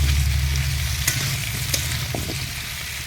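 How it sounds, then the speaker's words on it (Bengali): Clay potatoes fry in oil in a pan for a rohu fish curry while being stirred. A dense, close sizzle with a low rumble underneath holds throughout, broken by a few light scrapes, with no talking. "এবার একটু তেলে ভালো করে একটু নেড়ে নিতে হবে"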